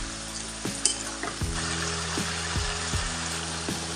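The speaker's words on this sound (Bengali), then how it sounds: "এরপর পেঁয়াজ শাক ঝাল দেওয়াটা বসাচ্ছি।" Onion greens frying in a pan give a close, steady sizzle with a few scraping stirs, while a low tonal hum runs underneath throughout.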